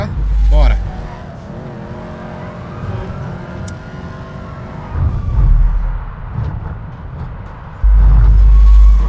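A Dodge Charger driven in the video game GTA V, its engine droning and shifting pitch during a getaway, with a swell of acceleration midway and heavy low thumps near the start and end, while a player talks over it.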